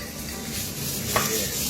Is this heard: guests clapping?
no